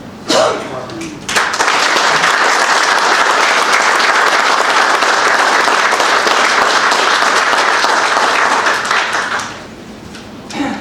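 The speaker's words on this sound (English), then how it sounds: "this round of applause would be for these folks here" At a county legislature meeting, a room of people bursts into a round of applause after a brief murmur, sustained loud clapping that carries for several seconds before fading out near the end.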